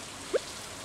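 Steady soft rain patters in the Stardew Valley video game, an even hiss with a single brief droplet tone.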